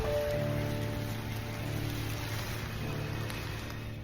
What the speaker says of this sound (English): just as I stepped outside, it started raining